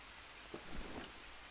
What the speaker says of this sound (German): Ja, natürlich regnet es gerade